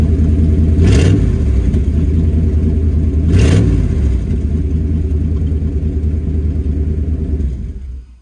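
A 1988 Chevrolet C1500 pickup engine on its old exhaust runs loud and close with a deep, rumbling idle, swelling in two short revs before the sound cuts off at the end.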